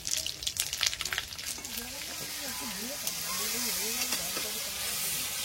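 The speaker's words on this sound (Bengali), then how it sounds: "কড়াইতে তেল দিয়ে দেবো। তেজপাতা, শুকনো লঙ্কা, 5 ফোড়ন।" Bay leaves, dried red chillies and five-spice crackle and sizzle in hot oil in a wok for tempering dal, sharp pops at first settling into a steady hiss, while a voice talks over it.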